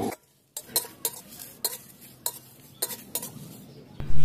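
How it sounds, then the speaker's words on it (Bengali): Dry whole spices being fried and stirred in a pan for raw mango pickle, with a utensil scraping and knocking against the metal in about eight sharp, irregular strokes over a faint sizzle, close and moderately loud. "এখন এই শুকনো মশলাটাকে ভালো করে ভেজে নিতে হবে।"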